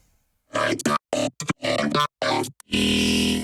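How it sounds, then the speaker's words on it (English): A vocal through Logic's stock vocoder, robotic and synthesized in choppy bursts, buzzy and harmonic-rich, ending on a sustained metallic chord-like tone. "It's really just the Logic stock vocoder."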